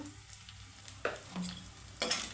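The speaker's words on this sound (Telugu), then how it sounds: "ఒక్క సెకండ్ పార్ట్ నూనెలో వేగింది కదండి కారం కూడా చూడండి" Chili powder fries briefly in oil for a catering-style cabbage curry, a faint close sizzle with a few quick scraping stirs of a spoon against the pan.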